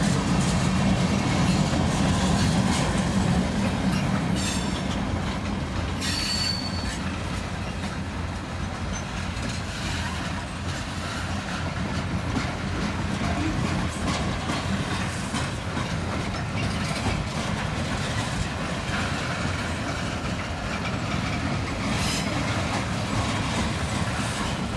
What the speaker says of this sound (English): KCS 682 North, leaving the siding in Joshua, Texas, with a military train,